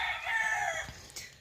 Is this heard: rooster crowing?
yes